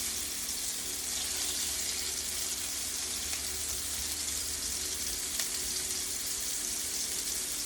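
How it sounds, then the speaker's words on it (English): Chicken dumplings cook in a 14-inch skillet, giving off a loud, dense, continuous sizzle heard up close. There are faint utensil touches and no speech. "these dumplings are just going to cook for about a minute"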